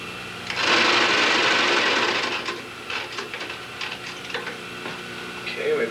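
Sewing machine stitching upholstery, loud and steady for over a second, then continuing in shorter bursts with pauses and soft handling clicks.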